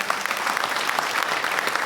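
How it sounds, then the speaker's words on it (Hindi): Loud, dense audience applause fills a meeting hall in a steady wash of many hands clapping, with no voices over it. "एक बार जोरदार ताली बजाए"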